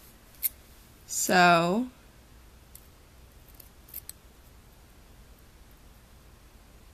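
Scissors snip through a strip of grosgrain ribbon in one short, close cut, then a quiet room with faint small rustles.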